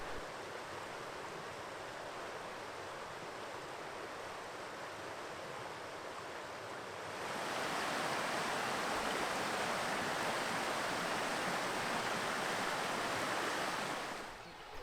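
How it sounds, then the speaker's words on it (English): A small river flows near a house, a steady broadband rush of water that grows noticeably louder and fuller partway through, as if approached closely, with no voices. "So there's this nice little river that's within easy walking distance of the house."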